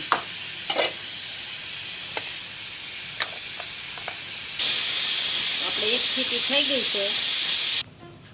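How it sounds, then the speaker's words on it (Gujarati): A pressure cooker releases a hissing jet of steam while chana is cooked, loud and continuous for about eight seconds before cutting off sharply, with faint voices and clatter underneath. "આપણે એક સીટી થઈ ગઈ છે, તો ગેસને બંધ કરી દેવું"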